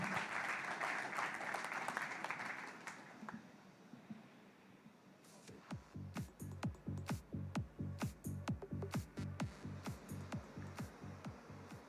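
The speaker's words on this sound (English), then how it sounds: "Big applause for that" An audience at a corporate event cheers and claps briefly, then breaks into loud, steady rhythmic clapping in unison that continues to the end.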